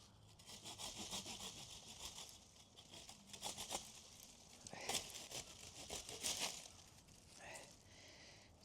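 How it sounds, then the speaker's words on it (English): Pruning shears cut through a thorny rose bush in a home yard during spring cleanup, making faint, close rustling and snipping sounds as branches are cut and dragged, with the odd quiet voice underneath. "I'm trimming the rose bush."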